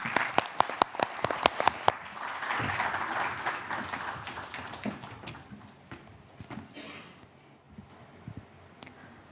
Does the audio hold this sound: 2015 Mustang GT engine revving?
no